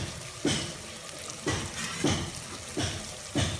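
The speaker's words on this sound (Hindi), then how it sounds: "तो इसके अंदर हम कीमा ऐड कर लेते हैं" Minced keema meat added to a prepared tomato masala fries in a pan, with repeated bursts of sizzling and stirring about once a second over a steady background hiss, close and fairly quiet.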